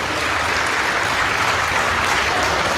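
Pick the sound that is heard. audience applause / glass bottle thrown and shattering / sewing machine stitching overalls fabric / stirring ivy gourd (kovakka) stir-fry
audience applause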